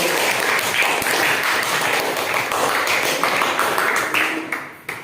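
Classroom applause after a group presentation on animal adaptation, a dense patter of many hands clapping steadily, loud and close, then thinning out at the very end.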